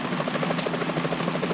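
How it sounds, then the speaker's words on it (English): Helicopter in a Metal Gear Solid 2 demo, a steady rapid rotor chop pulsing with dense broadband engine noise, loud and continuous with no voices. "Is that a chopper I just heard?"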